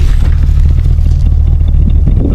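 A 1978 Lincoln Town Car, long left abandoned, idles through its single exhaust with a deep, steady low rumble and light irregular clatter, heard close at the tailpipe without speech.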